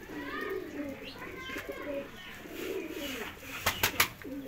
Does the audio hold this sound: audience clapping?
no